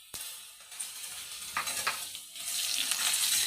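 Crushed garlic and ginger paste sizzle in hot oil in a pan as a spatula stirs close by, the frying hiss swelling louder toward the end.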